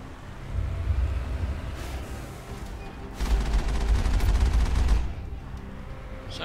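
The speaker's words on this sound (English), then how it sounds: "Who is still shooting me?" Gunfire in the video game Mass Effect: dense, rumbling bursts of weapon fire and explosive thuds that swell, fade and return, heard as a continuous noisy battle.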